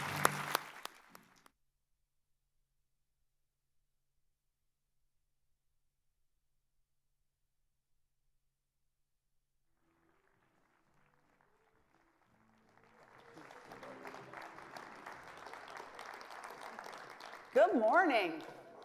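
An audience at a keynote breakfast breaks into steady applause that builds from scattered claps into a sustained clapping crowd after a long quiet stretch, with a voice at the very start.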